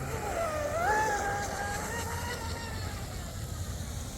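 The small electric motor of an RC racing boat, a Tenshock Viper 1530 with a Seaking 60A controller, whines steadily on the water, its pitch rising and wavering slightly as it runs on, with a faint wind-like hiss behind it.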